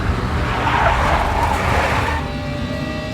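A big black Mercedes skids in the Max Payne video game, a loud, close tire squeal over a steady engine roar that fades in its final second.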